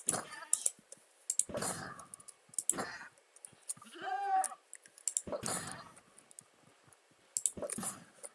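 A single goat bleat in Minecraft, a wavering nasal cry, stands out among clicks, short game noises and brief bits of talk.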